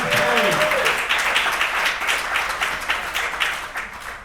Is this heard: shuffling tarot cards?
no